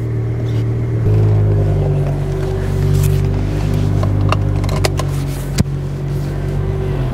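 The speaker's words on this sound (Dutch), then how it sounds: "De bak in vrij om te kunnen starten." A car engine fires up with the gearbox in neutral, settling into a steady, loud idle rumble with a sharp knock near the end; no talking.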